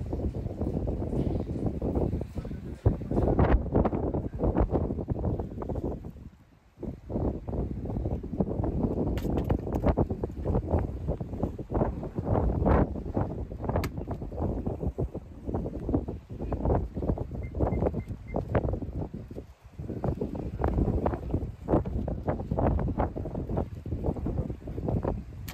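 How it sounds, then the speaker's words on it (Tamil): Strong wind at sea buffeting a fishing boat out catching fish with hand lines, a loud, steady roar against the microphone with brief lulls, continuous throughout with no talk. "காற்றுமே வந்து கொஞ்சம் உரமாகவே இருக்குது."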